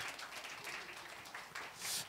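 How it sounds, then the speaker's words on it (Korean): A congregation applauding during a church sermon, a brief, faint, even patter of clapping that swells slightly at the end. "네, 박수하겠습니다."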